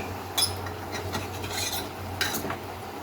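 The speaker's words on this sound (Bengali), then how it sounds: "খুন্তি দিয়ে নাড়তে একটু অসুবিধাই হচ্ছে ওই জন্য ঝাঁকিয়ে ঝাঁকিয়ে একটু নেড়ে নিচ্ছি" A pan of chicken stew with turmeric and winter vegetables is shaken to stir it, giving soft scraping, sloshing rubs and a few sharper metallic knocks amid a low background hum, fairly quiet and irregular.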